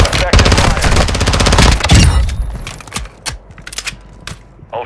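Rapid gunfire in the online shooter Call of Duty DMZ, with dense automatic bursts in the first two seconds followed by scattered single shots and short volleys. The fire is loud and close, and no voices are heard.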